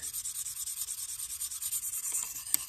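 A Cold Steel Air Lite knife blade is stroked across a worn 300 grit stone on a KME sharpener, a quiet, rhythmic rasping scrape repeating in quick, even back-and-forth passes.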